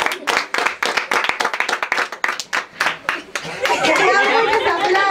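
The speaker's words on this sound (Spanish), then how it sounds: "muchos aplausos" Bursts of hand clapping at a children's birthday celebration, close and lively, mixed with chatter and voices, building into denser applause toward the end.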